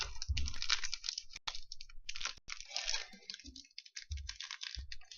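Opening a T-Ekstraklasa football sticker sachet, close crinkling and tearing of a thin foil wrapper in irregular bursts, with dull taps and rustles between them and no talk.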